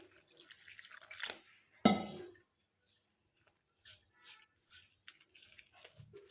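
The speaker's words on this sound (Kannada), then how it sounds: "ಈಗ ನೀರು ಹಾಕ್ಕೊತೇನೆ ನೋಡಿರಿ." Water is poured into pearl millet flour with a little buttermilk for dosa batter: one short close splash, then faint scattered drips and clinks in a quiet room.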